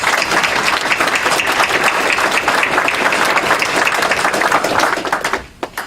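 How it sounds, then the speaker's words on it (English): Audience applause at a dedication ceremony in Frankfort, a loud, dense crowd of clapping that holds steady for about five seconds before tapering off with a few last claps. "let's give them a round of applause"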